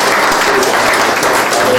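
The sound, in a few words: church congregation applauding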